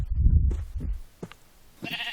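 Sheep in the Minecraft video game bleat, a loud, close, wavering bleat followed by a couple of shorter quieter sounds and a brief bright noise at the end, with no talking.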